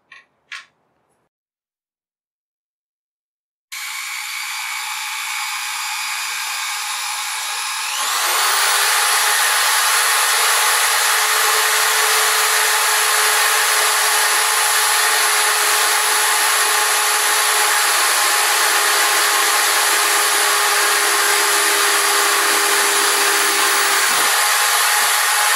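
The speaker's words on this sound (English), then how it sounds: "my dad will help me drill the holes" After a brief knock and silence, a power drill starts up drilling holes in a pipe, then settles into a loud, steady high-pitched whine that runs continuously to the end.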